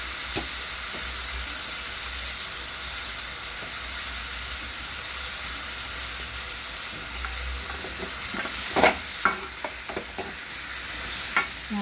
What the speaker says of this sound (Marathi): आपले शेंगदाणे पण ॲड करायचे मिळा मस्त आपली परतून घेतली आपण भाजीला